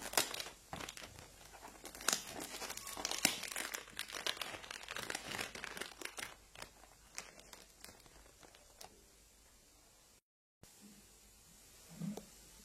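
Plastic packaging of a Filorga cream product being opened, close crisp crinkling and tearing in bursts that thin out, followed by a brief pause and a soft rustle.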